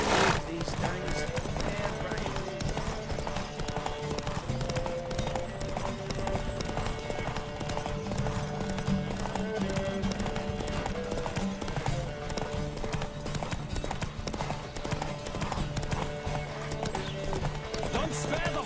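Rhythmic clip-clop of horse hooves galloping in The Witcher 3, steady and close throughout, with an occasional whinny, game music and voices talking over it.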